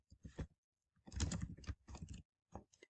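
Keys tapped on a computer keyboard in short bursts, quiet and close, with brief pauses between clusters of clicks.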